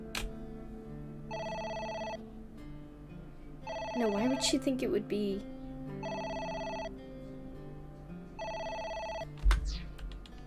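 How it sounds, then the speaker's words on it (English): A telephone rings in AI: The Somnium Files, four evenly spaced electronic ring bursts with pauses between them, while a person talks during the second ring. "The phone is ringing."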